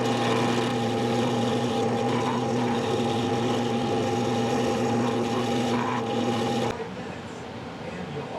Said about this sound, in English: It's time to start carving.